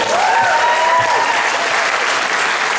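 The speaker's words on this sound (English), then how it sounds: "everybody should give them a round of applause" Audience at the Talent for Education 2013 talent show giving a loud, dense round of applause, sustained and close, with a faint whistle-like tone briefly riding over the clapping.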